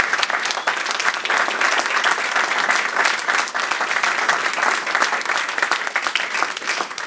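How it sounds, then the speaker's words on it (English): An audience claps at a Startup Grind Sydney event, a dense and steady round of applause from a sizeable crowd that holds loud and even for the whole stretch with no voices cutting through. "so hand a round of applause for us"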